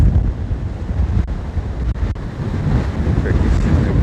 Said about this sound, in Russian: Какие сильные волны.